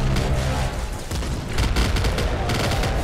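Disc gun firing a rapid barrage of discs in the video game Nuclear Throne, a loud, dense run of overlapping impacts and bursts that continues without pause, with heavier thumps throughout.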